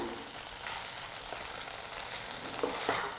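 Chilli paneer tossed with sauces in a hot pan, a steady close sizzle with scattered scraping and clinking stir strokes, busier toward the end.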